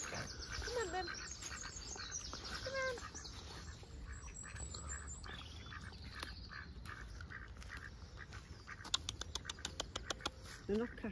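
Ducks squawking and quacking during a walk in Northumberland, intermittent calls near and far, with people talking over them and a few sharp clicks toward the end.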